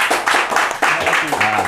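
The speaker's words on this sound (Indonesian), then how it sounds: "Oh, tepuk tangan dulu." Brief, close hand clapping from a small group honouring a first-place PUBG tournament winner in an indoor interview setting, irregular bursts lasting under two seconds, with talk running alongside.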